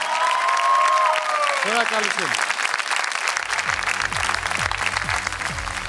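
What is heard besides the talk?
audience applause at a televised gala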